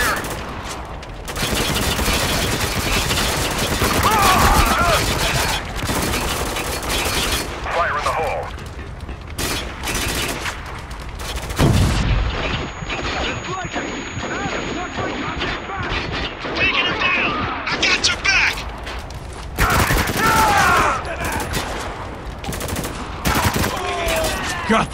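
Dense gunfire from the video game Spec Ops: The Line rattles almost nonstop, with bursts of automatic fire, heavier blasts and mechanical clatter, loud and continuous throughout, while a voice talks briefly underneath.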